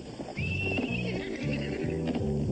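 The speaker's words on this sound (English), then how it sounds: "He gave me his horse and everything, see?" A cartoon horse whinnies in a loud, close, wavering neigh, with rhythmic hoof thuds underneath.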